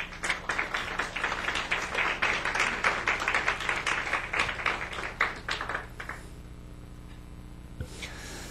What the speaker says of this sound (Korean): 우리 박수로 한번.